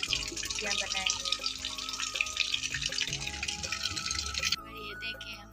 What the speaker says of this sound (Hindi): तो फिर हम पानी भर रहे हैं।